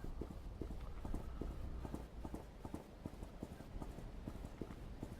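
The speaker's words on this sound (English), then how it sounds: "The horse ride is pretty smooth." Horse hooves clip-clop at a steady walking rhythm during a ride in a Sunset Riders game, close and continuous over a low ambient hum.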